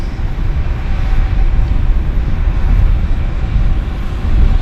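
A business jet at Vancouver Airport, a loud, steady broadband engine roar that holds at an even level throughout, close by, with no other sounds.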